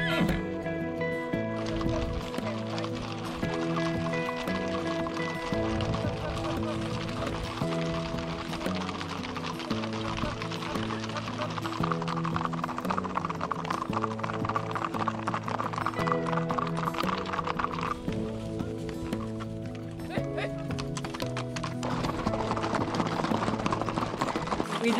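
Many Icelandic horses in a herd clatter past in a dense, continuous rumble, with a horse whinnying and faint voices underneath, in Iceland.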